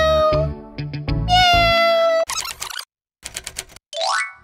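A cartoon kitten meows in long, bright, tonal cries, mixed with rapid typewriter-like clatter and a rising springy boing effect, loud and close, with no talking.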